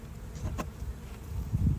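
Honeybees buzz around an open hive during inspection, a soft, continuous droning hum with individual insects swelling briefly louder as they pass.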